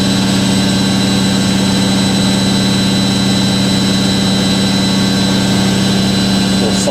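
A Hoover A3060 Electronic washing machine spins at 1100 RPM with a loud, steady high-speed whine and drum hum, sustained without pause and with a slight rattle of trembling panels.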